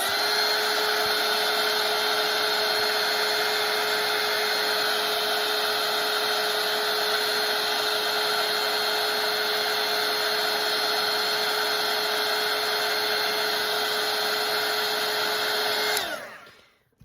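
A hair dryer drying a watercolour painting of a snowman runs as a steady, loud, close whine and whoosh for about sixteen seconds, then switches off and winds down abruptly.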